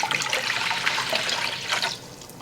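Two cups of water pour steadily into a bowl for whole wheat bread dough, a close, continuous splashing rush that eases off near the end.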